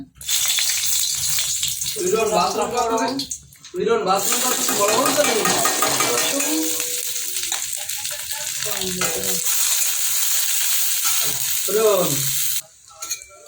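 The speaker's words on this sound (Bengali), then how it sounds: "রসুন লাল লাল করে ভাজা হয়ে গেলে" Garlic fries in hot oil in a kadai for a tempering, a steady, loud sizzle with stirring throughout, and a person talks intermittently over it.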